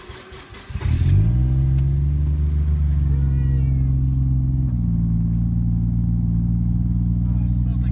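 An older Japanese car's engine cranks briefly and catches, then settles into a steady, loud, close idle with a slight change in pitch midway, with voices faint in the background.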